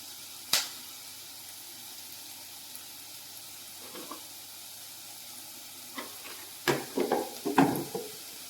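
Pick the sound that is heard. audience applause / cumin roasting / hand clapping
cumin roasting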